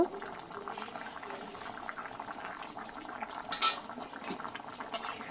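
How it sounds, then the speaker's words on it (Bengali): Eggs being added into simmering masoor dal in a pot: a soft bubbling simmer with spoon and pot clinks and a brief splashy burst, with faint talk in the background. "এবারে ডালের মধ্যে ডিমগুলো দিয়ে দিচ্ছি"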